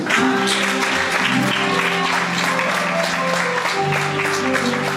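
A church congregation applauds to acclaim the Lord, a loud, continuous wash of clapping, with music playing steadily underneath.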